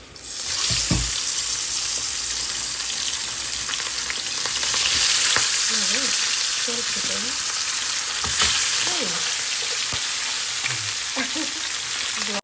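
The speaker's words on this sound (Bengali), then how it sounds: "এইখানে যে তেল দিয়ে দিয়েছি তেল গরম হয়ে গেছে মাছটা ভেজে" Fish frying in hot oil in a home kitchen, a loud steady sizzle that swells and settles as pieces are moved and stirred, with a few faint clinks of utensils and no talking.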